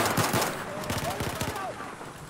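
Gunfire in the video game Battlefield 4, a rapid close burst of automatic shots with a few scattered single shots, loud against a busy battlefield background.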